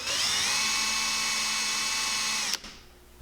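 A small power drill with a small-diameter bit whines at a steady high pitch for a few seconds while drilling a small hole in a fishing lure's clear plastic wing, then abruptly stops, leaving quiet room tone.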